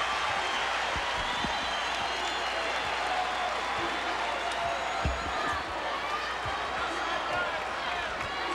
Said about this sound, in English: Oklahoma State crowd, the partisans up and cheering the effort of their ball club